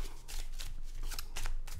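Game cards being shuffled in quick riffling bursts, a papery ruffle repeating several times close by, with no voices.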